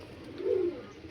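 An Andhra pigeon gives a single soft, low coo, close by and brief, over faint background hiss.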